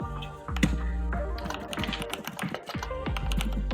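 Rapid typing on a computer keyboard while programming, steady clicking keys close up over a continuous background hum and music-like tones, no speech.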